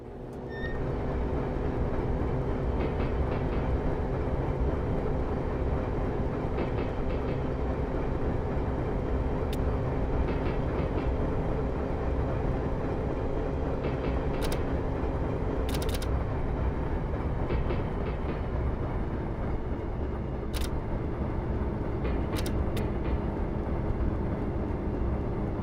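Steady low rumble and rhythmic clatter of a train heard from inside its caboose on a San Francisco to Sacramento interurban run, continuous and fairly loud throughout with no talk.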